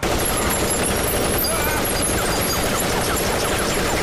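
Gunfire in the anime Elfen Lied: a loud, continuous roar of rapid automatic shots and crashing impacts, dense and unbroken, with voices mixed in.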